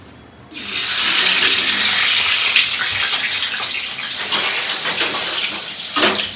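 Tap water gushing from a kitchen faucet while rice is rinsed, starting abruptly and running loud and steady with splashing fluctuations, alone without talk.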